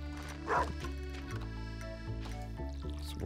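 The dog Snufkin in the Stardew Valley video game gives a single short bark over gentle looping background music.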